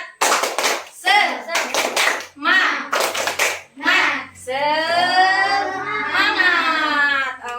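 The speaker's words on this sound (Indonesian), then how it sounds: "kita tepuk semangat lagi" Primary school pupils in a fourth-grade classroom clap a rhythmic cheer clap in sharp bursts of patterned hand claps, then call out together in a sustained chant.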